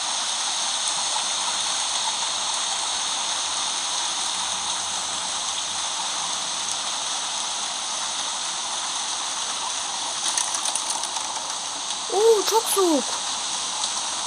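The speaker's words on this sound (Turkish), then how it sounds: "Fena yağmur yağıyor." Rain falls in the video game Don't Starve as a steady, even hiss that lasts the whole stretch. A few short chirpy game sounds rise near the end, and a voice speaks briefly.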